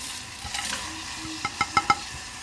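Whole spices drop into a pot of water on the stove for Kashmiri pink tea, heard as a short run of four light, quick taps and clinks over a faint steady background hiss.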